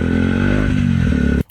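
A motorcycle riding along a bicycle lane gives a loud, steady engine drone with a strong low harmonic hum, holding close and even for over a second before cutting off abruptly, with no voices.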